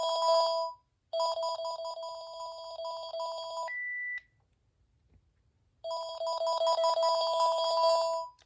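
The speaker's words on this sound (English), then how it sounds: "But let's see what kinds of ringers this has." Panasonic KX-TG4021 cordless phone ringtone playing as a repeating electronic warble in long bursts, with a short single beep and a pause before the ringing resumes, close and clear.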